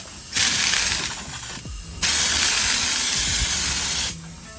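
A spray gun test-sprays bedliner onto paper before lining a 1979 Bronco, giving two long, loud, steady hissing bursts separated by a short break, with a faint mechanical click as the trigger is released and no talking.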